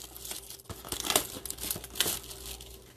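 A paper wrapper on a 2020 Bowman baseball card pack is torn and crumpled close up, a quick series of crinkles and rips in short irregular bursts.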